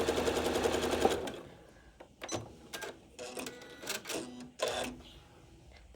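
Sewing machine stitching a quarter-inch seam, a quick rapid needle chatter for about a second, then several short mechanical clicks and whirs as the machine is adjusted.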